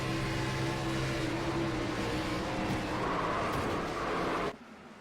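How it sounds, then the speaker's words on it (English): Onboard race car engine at Daytona International Speedway in a racing video game, a loud sustained engine roar with tire squeal and shifting pitch, cutting off abruptly near the end. "see if we can't ride on board with the race leader of Showtime, Chase Johnson, and see exactly"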